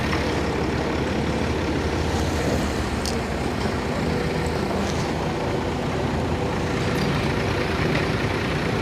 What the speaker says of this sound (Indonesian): ekskavator akan mendorong dari belakang